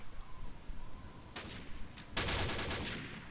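Gunfire sounds in the online shooter Combat Arms during a rooftop fight with pistols and shotguns. A sharp shot is followed by a brief burst, then a dense, sustained volley, all loud against steady game background noise.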